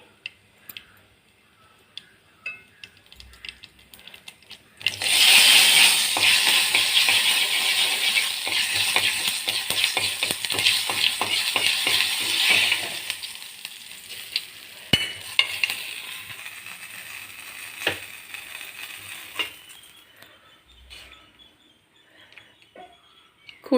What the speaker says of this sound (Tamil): சட்டியில் எண்ணெய் காஞ்ச உடனே கடுகு தாளித்து போட்டுருங்க.